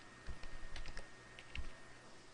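Soft, quick keyboard taps in a short irregular burst, close and fairly quiet, with no voices.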